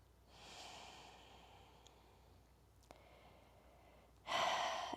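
Slow, soft breathing during a yoga practice, faint and steady with a gentle hiss, ending in a louder, sharper breath or exhale.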